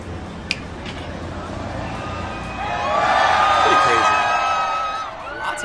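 Crowd on a Hell's Kitchen street in New York cheering and whooping as the lights come back on after the NYC blackout, a steady babble that swells into louder sustained cheers midway, then eases.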